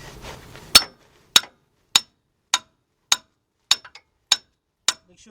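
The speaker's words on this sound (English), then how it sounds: "you got to take your hammer and hit it" A hammer striking a car's inner tie rod during a Ford Explorer front-end repair: nine sharp metallic clanks at a steady, even pace, each ringing briefly into silence, with one quick double tap.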